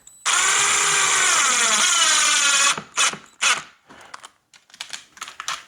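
Power drill driving a screw into a wall mount for a battery-powered wireless sconce. It gives one sustained whir of about two seconds at close range, then brief handling bursts and clicks.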